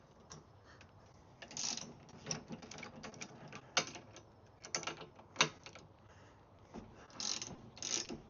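Bolts on a Rippa R13 Pro folding top being loosened with a ratchet, giving repeated bursts of quick clicking at close range with short pauses between turns, no talking.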